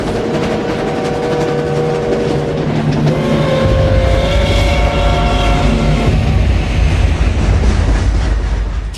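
A train carrying prisoners toward concentration camps, a loud, continuous roar of rolling wagons with a clickety-clack rhythm and a deepening rumble partway through.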